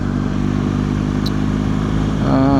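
A BMW motorcycle pulls away uphill on the clutch. Its engine drones loudly and steadily, and the pitch rises as it revs near the end.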